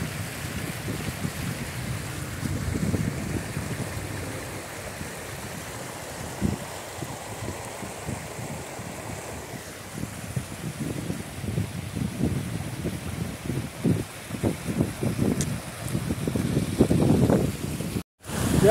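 Heavy rainwater rushing through a village after a sudden intense downpour, a steady loud broadband wash of flowing water with surging, gurgling bursts throughout and no talk.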